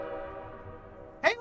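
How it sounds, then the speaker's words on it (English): A train rumbles in the video game Bendy and the Dark Revival, giving a steady low droning tone that fades slightly, followed by a short voice near the end. "Hey, look, a train."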